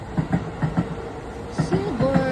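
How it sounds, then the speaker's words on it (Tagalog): A train passes at Daitabashi in Tokyo with a rhythmic clickety-clack of wheels over rail joints, moderately close, with faint tonal squeal toward the end. "Ayan, dumaan na yung tren."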